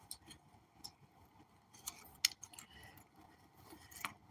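A new-with-tag Doritos-branded bag is handled and opened, with faint scattered rustles, small clicks and a jingle of the zipper and tag, quiet and irregular with no talking.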